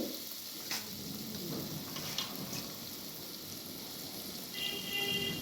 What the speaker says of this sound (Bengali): এগুলোকে ভালো করে একটু ভেজে নিতে হবে।